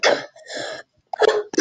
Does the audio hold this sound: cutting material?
no